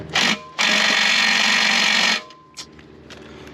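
Impact wrench working a motor bolt on a 1970 Ford Falcon: a short loud buzzing burst, a brief pause, then a sustained roughly one-and-a-half-second hammering whir that cuts off, followed by faint shop clatter.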